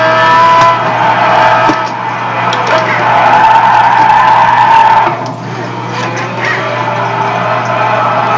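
A car drifts with loud, sustained tyre squeal and skidding under a steady engine drone, easing off partway through and then continuing more quietly.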